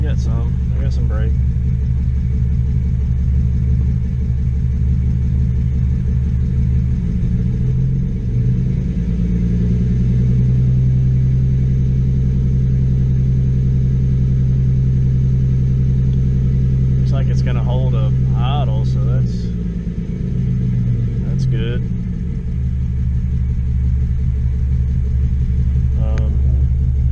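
A straight-piped BMW Z4 with headers and a newly fitted engine runs on its first start-up, with a deep, loud, droning idle rumble that swells as it revs midway, and brief voices over it.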